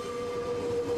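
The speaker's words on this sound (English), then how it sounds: "The train departs from the heart of the city." Tren Crucero passenger train in Ecuador, departing from central Quito, sounds a steady sustained horn tone over a continuous rumbling rail background for about a second, with no voices.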